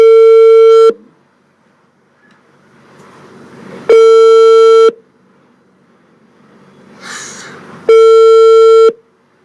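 A telephone ringing, loud and close, with three long tonal rings about four seconds apart and quiet gaps between them, a faint rustle and a brief soft noise in the pauses.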